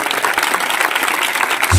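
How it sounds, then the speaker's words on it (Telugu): Loud applause from a congregation at a Telugu Christian religious gathering, dense steady clapping filling the whole moment with a low thump rising near the end. "గట్టిగా చప్పట్లు కొడుతూ"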